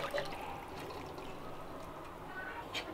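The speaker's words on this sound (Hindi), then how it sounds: "जो राजमा मैंने बॉईल किए थे वो मैं इसमें डाल के" Boiled kidney beans (rajma) poured into a curry in a home kitchen, a wet sloshing pour with a short trickle, fairly soft and close, with faint room noise behind it.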